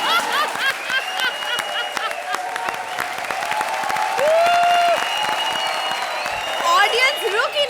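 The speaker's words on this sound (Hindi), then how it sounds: "ऑडियंस रुक ही नहीं रही है, तालियों की बरसात हो रही है" Studio audience applauding on a Hindi TV comedy show, a steady wash of clapping mixed with cheers and laughter that swells near the end while a voice speaks over it.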